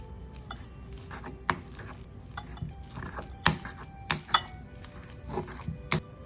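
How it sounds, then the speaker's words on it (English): Stone mortar and pestle pounding and grinding basil, pine nuts, salt, garlic and Pecorino Toscano cheese into pesto: irregular close knocks and scraping strokes, a few sharper clinks, no talking. "And then you're gonna mortar and pestle away."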